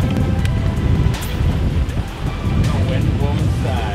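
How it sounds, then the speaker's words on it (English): Strong wind buffeting a microphone on a lake while bass fishing in early fall: a steady, loud low rumble and roar that persists through the whole stretch, with occasional gust swells. "the wind is pounding in here"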